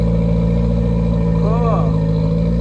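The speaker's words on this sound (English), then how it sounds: "Let's fire it up for the final time." A Toyota Corolla with a 3TC engine runs loud and close with a steady, throbbing idle hum, and a voice speaks briefly over it.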